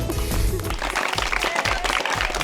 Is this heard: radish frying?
no